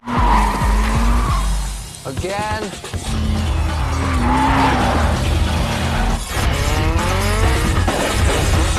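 Screeching tire squeals and engine wails from a car drifting in a street-racing film scene, in the vein of The Fast and the Furious, come in repeated loud bursts against a dense movie soundtrack, with voices at moments.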